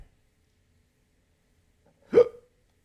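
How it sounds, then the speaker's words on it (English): A single short hiccup from a person, sharp and clear against near silence, with a small trailing catch. "Hiccup."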